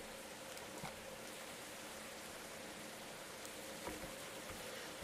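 Simulated rainfall from a Unity weather system hisses evenly as a constant soft wash of drops, with faint scattered patters rising briefly above it.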